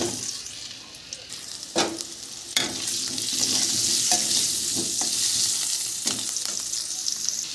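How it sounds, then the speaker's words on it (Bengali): Potatoes fry in hot oil with a pinch of turmeric in a wok, a steady close sizzle broken by repeated scraping strokes of the spatula against the pan. "দিয়ে আলুগুলোও ভেজে নেব"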